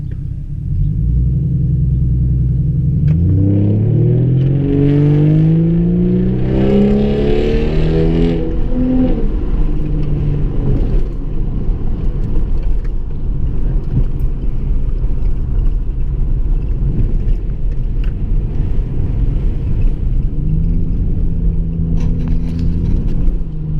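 A 2011 Dodge Charger with a straight pipe exhaust rumbles close by, revving up in rising sweeps early on, then settling into a steady, loud droning cruise.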